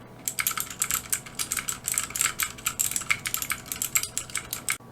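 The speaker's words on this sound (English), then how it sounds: "These are Cherry MX blue switches." A Ducky Mecha Mini mechanical keyboard with Cherry MX blue switches is typed on steadily, producing a fast, close run of crisp, clicky keystrokes alone.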